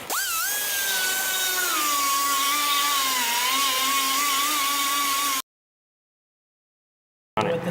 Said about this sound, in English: I'm gonna take and bevel the inside of the actual pipe itself